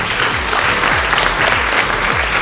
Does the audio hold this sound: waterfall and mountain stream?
no